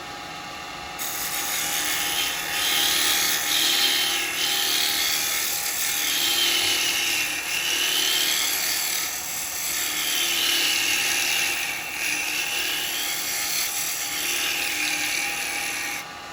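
A wood lathe spins while a carbide tool makes hollowing cuts, giving a steady high whirring hum with rhythmic rising and falling scraping sweeps, close and loud after a quieter start.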